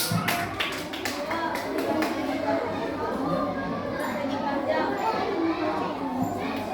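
Children in a classroom clap together in a brief burst of rapid hand claps near the start, followed by lively chatter and a teacher's voice carrying over the room noise.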